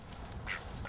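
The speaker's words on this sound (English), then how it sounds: "When I say quack, you're gonna quack, right?" A duck gives two short quacks, about half a second apart, close and fairly loud over a steady background hiss.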